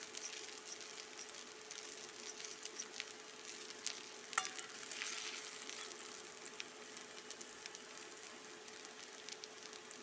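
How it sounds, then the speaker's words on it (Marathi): Kurdai vegetable dish stir-fried in a pan, a faint, continuous sizzle with soft scraping stirs and a single click partway through, heard alone without speech. "बघा असे सारखे हलवून घेतले ना अशी मस्त भाजी होती"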